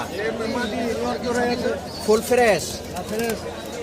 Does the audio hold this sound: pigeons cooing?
yes